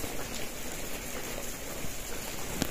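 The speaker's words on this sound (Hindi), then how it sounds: "टप टप गिरते रहता है, हाँ, पानी गिरते रहता है।" Water dripping steadily from rocks at Barsopani, a dense close patter of drops like light rain, continuous with a couple of sharper drips near the end.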